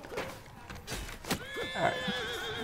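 A horse neighs in a video game battle with archers, a loud whinny following clip-clopping hooves, with brief shouted voices and game noise around it.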